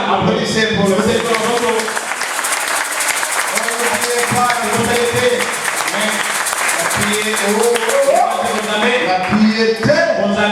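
Church congregation applauding during a sermon, sustained crowd clapping with voices and singing layered over it, loud and continuous throughout.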